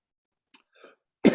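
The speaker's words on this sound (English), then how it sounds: "let me finish this cough" A single loud, harsh cough bursts out near the end, preceded by a couple of faint small throat noises in otherwise quiet air.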